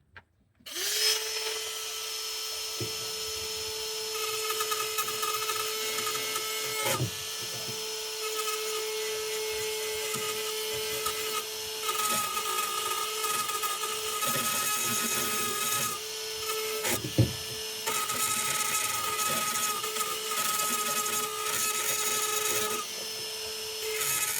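Drywall cutout tool shaving thin layers off material while digging access to an underground pipe: a steady, close, high-pitched whine held for long stretches, broken by two brief cutoffs before it spins back up.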